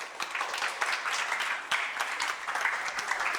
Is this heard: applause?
yes